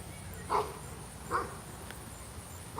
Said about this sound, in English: Now he's barking at me.